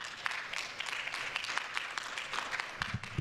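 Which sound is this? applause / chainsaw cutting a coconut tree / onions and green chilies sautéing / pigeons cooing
applause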